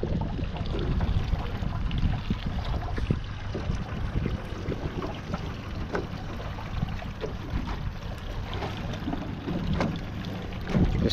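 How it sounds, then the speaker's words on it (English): A kayak passes on the open sea off Okinawa in light chop. Steady wash of water and boat noise with wind buffeting the microphone, continuous and fairly loud throughout. "When you think you're in the middle of nowhere, literally, a guy shows up on a kayak."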